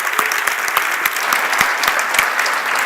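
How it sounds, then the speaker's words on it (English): A conference audience applauds the organizers with a strong, sustained round of clapping, many hands blending into a dense wash with a few crisp nearer claps standing out. "Let's give them a round of applause for Max and Sherry and all of them"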